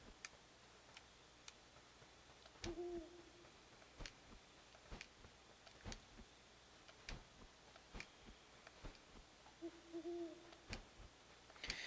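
Owl hooting with spatial audio in the video game Death's Door, two soft low hoots spaced well apart, heard against a steady ticking like a clock in a quiet scene.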